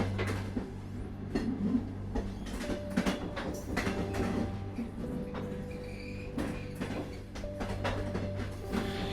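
Steady low rumble of a stationary train at a siding, engines shifting, with mechanical clanks and hisses, heard up close for several seconds with no talking.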